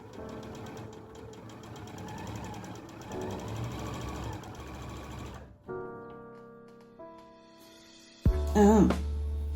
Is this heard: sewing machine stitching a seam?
yes